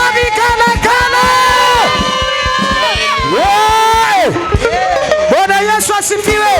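Worshippers at a lively praise service cry out in sustained, trilling ululations and cheers, loud and close, layered over a pounding drum rhythm and band music from start to finish.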